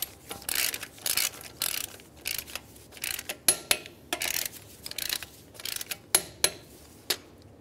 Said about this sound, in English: we're going to go ahead and start on all of our lug nuts, bottom them out